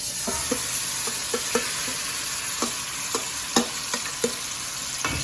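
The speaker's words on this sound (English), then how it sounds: "I'm gonna also add our meat, our pork chop," Steady frying sizzle from a pork chop in a hot pan over high heat, with scattered sharp pops and crackles breaking through the continuous hiss.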